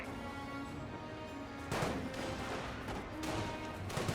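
Gunfire and explosions from the Company of Heroes video game, with a steady background of battle noise broken by several sharp, booming bursts of fire, heard faintly and with no talk.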